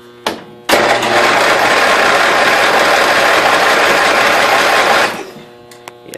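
A 1992 Yard King lawn tractor engine, running for the first time in about seven years, roars steadily for several seconds after a brief start attempt, then cuts off abruptly, leaving a few faint clicks afterward.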